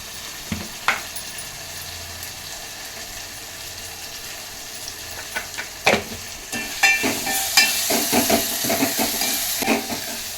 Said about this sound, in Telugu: మనము టమోటాలు అనేవి బాగా మెత్తగా అయ్యేంత వరకు వేయించుకోవాలండి